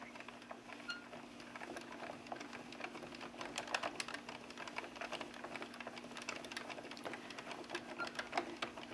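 An Addi Express knitting machine works rows for a brim hat, its carriage clicking and rattling in a quick, steady patter of small mechanical taps, fairly faint and close, with no voices.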